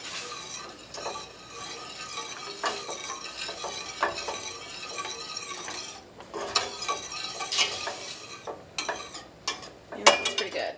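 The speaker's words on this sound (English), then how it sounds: "stir that down. Make sure all that brown sugar gets nice and dissolved" Brown sugar stirred in a pan to dissolve, with a utensil scraping and clinking against the pan in irregular bursts over a soft simmer, close and fairly quiet, no talking.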